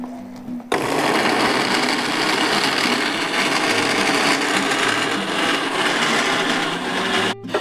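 Blender whirring steadily as it grinds shallots and garlic with a little water, a loud continuous motor drone that starts abruptly and runs without pause.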